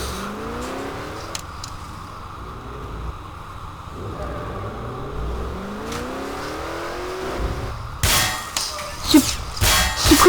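Car in Garry's Mod with failing brakes keeps driving, its engine whining and rising in pitch in repeated revving sweeps, with clangs and heavy crashing impacts toward the end.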